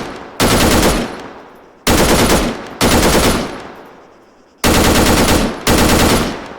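Assault rifle gunfire in Arma 3: loud, close bursts of automatic fire, five separate bursts each about a second long, spaced by short pauses with fading echo tails.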